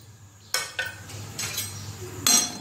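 Peanuts tipped into a pan of roasting sesame seeds. A few sharp clattering rattles and pan knocks sound close by over a faint background, ending in a louder burst of rattling.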